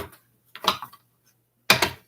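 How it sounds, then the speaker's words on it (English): A deck of tarot cards shuffled in two short, sharp bursts of papery clatter close by, separated by a moment of silence, with no voices. "All right, so again, we're going to shuffle one more time."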